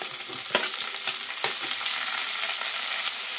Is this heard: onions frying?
yes